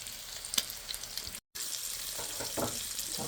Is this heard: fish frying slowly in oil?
yes